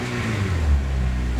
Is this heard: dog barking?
no